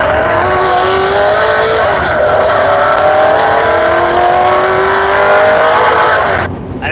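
A turbocharged vehicle accelerates hard on a Texas highway run, its engine a loud, continuous roar with a rising whine that climbs steadily in pitch before cutting off abruptly near the end.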